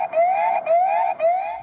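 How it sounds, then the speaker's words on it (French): The anti-theft alarm of a Mova 600 robot lawn mower, set off when it is lifted, sounds as a loud, close electronic siren rising in pitch in three repeated sweeps, each cut by a brief gap. "il a émis une alarme quand nous l'avons soulevé durant plusieurs"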